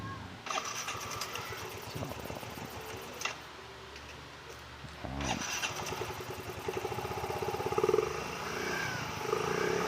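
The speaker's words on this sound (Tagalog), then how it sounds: "Kailangan natin siyang i-start para humigpit yung belt niya." A scooter-type motorcycle engine on the workbench after a clutch lining and clutch bell change is started to tighten its belt. It cranks, catches and settles into a close, ticking idle with small rises in revs.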